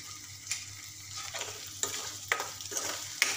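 Finely chopped tomato frying with curry leaves in a pan for a spicy matki curry, a steady low sizzle with a few sharp stirring scrapes and spoon taps scattered through, close and fairly quiet, no voices.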